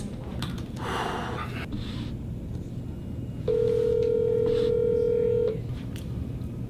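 During a phone-banking call that goes unanswered, a single steady ringback tone sounds through the handset for about two seconds, clear and close, after some breathy noises and quiet room sounds.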